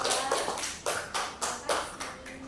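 A small classroom group clapping for a student team, roughly eight or nine loose rhythmic claps spread over a couple of seconds, fairly close and moderately quiet.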